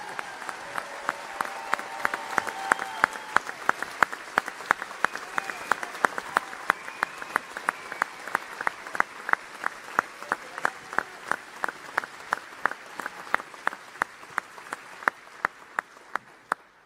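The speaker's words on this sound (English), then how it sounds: "again show our commitment by giving Sadhguru a loud round of applause." A large crowd at a Save Soil event with Sadhguru in Paris applauds steadily and loudly, a dense roar of clapping with sharp individual claps standing out, sustained throughout.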